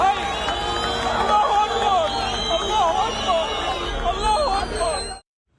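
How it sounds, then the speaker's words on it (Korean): In Tripoli, in northern Lebanon, a crowd at a collapsed building cheers and shouts as a child is pulled from the rubble. Overlapping voices form a continuous, agitated din that cuts off abruptly near the end. "환호성이 터져 나오기도 했습니다."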